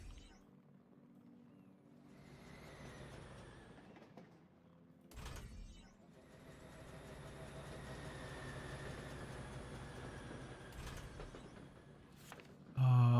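Train rolling along a rail line in the factory-building game Foundry, a steady mechanical rumble and clatter that builds and holds for most of the stretch, with brief louder bursts and no talk.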